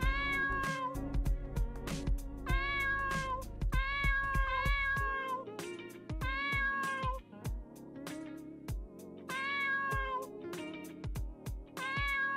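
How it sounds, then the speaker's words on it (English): A cartoon cat in the video game Dave the Diver meows repeatedly in short, bright, tonal bursts over a plucky game music loop, with no talking. "is that a kitty over there?"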